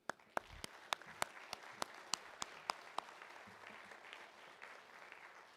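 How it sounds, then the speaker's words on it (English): A banquet audience applauds at the South Boston Speedway awards banquet. Sharp individual claps land in a steady rhythm over a soft crowd wash, then the clapping thins and fades after about three seconds, faint and somewhat distant. "please stand up and everybody give them a round of applause too"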